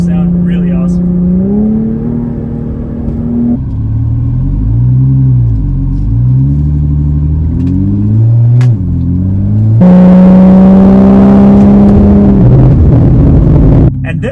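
Engine of a track-modified Porsche Cayman R rising and falling through several loud downshifts and rev blips, with a burst of harder acceleration near the end, all close and continuous.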